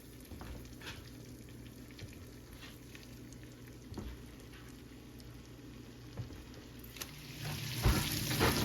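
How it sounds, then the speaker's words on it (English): Chicken sizzles and fries in a pan with butter and herbs for Tuscan chicken, a soft steady crackle with small pops, swelling louder near the end as the pieces are pushed around; no one speaks. "This is getting sizzling, so once it starts sizzling, I'm going to drop that chicken in."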